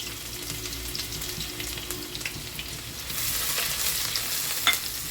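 Onions frying in a pan for a masala daliya gosht, a soft steady sizzle with stirring scrapes that swells louder and brighter in the second half, capped by a sharp clink near the end.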